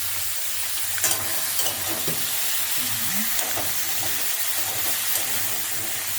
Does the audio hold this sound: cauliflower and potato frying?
yes